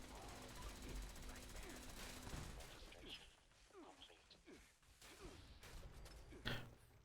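Laser turrets in a video game fire rapid, crackling bursts. A dense burst plays for about two seconds, followed by sparser, quieter shots and some clatter, all close and fairly loud.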